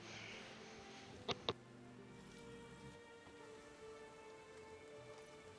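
Steady light rain patters throughout a Witcher 3 game scene, a soft continuous hiss with two quick ticks early on and a faint musical drone beneath.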